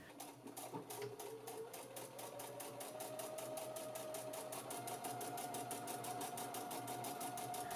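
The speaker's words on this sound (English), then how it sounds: "I'm going to flip it over to look at the seam and stitch around the entire outside edge." A sewing machine runs continuously as it stitches around the outside edge of a pleated fabric mask, giving a fast, even mechanical chatter that stays close and steady throughout.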